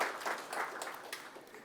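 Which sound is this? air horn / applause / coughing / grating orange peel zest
applause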